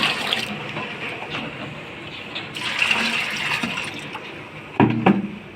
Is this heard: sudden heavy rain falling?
no